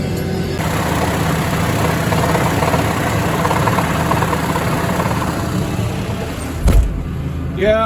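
Tractor engine running steadily while ploughing a field in sticky topsoil, a constant loud low rumble close by that holds throughout with a brief heavier thump near the end.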